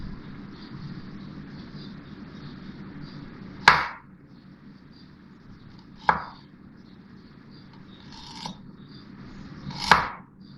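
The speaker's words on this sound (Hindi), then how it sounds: "इसी तरह से मैं अदरक भी चॉप कर लूँगी। पहले स्लाइस करेंगे।" A knife cuts fresh ginger on a board for shish tawook marinade, giving a few sharp isolated chops spaced seconds apart over a quiet kitchen background, with no talking.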